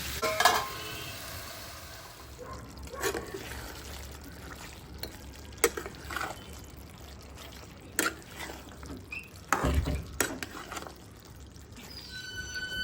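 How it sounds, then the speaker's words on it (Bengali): Meat being stirred and braised in a pan, covered now and then, with a steady soft sizzle and intermittent scraping strokes of a spoon at close range, no talk. "এবার মাংসটা ঢেকে ঢেকে কষাতে হবে"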